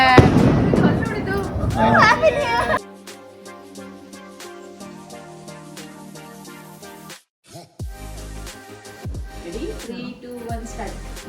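Loud crackling bursts of firecrackers at a New Year celebration at the start, followed by music and a quieter stretch, with a few more pops and voices near the end.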